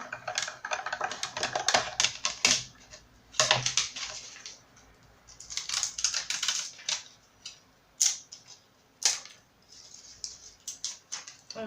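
An electronic cutting machine slicing paper for a gift envelope box, heard as quick irregular bursts of clicking and whirring with short pauses in between, close and fairly quiet.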